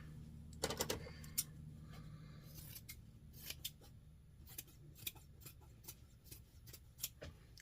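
Scissors snipping through scrap fabric in a rough cut, a quick series of close, crisp blade snips and light rubbing at an irregular pace, with no one speaking.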